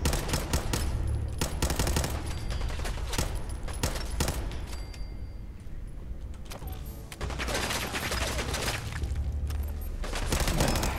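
Rapid bursts of automatic gunfire and scattered single shots from a Fallout 4 shooting gallery firefight, loud and dense, continuing across the whole stretch with brief lulls.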